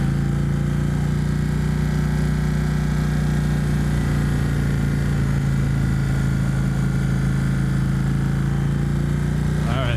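An Indian Thunderstroke 111 engine on a 2017 Indian Roadmaster motorcycle idles with a deep, steady low rumble for the whole stretch, loud and close, ending with a brief shift in tone.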